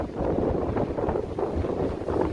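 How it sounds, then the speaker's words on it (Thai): A cool seaside wind in Japan buffets the microphone in continuous low rumbling gusts, loud and close, with faint surf or water noise underneath. "โอ้บรรยากาศลมเย็นเย็น"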